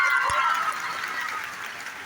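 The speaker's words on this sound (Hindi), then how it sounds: "सबसे पहले जितने लोग खड़े हैं उन सारे बॉयज के लिए तालियां बजाइए" A large audience applauds the boys who gave up their seats, a broad clapping wash that starts strong and gradually softens as it continues.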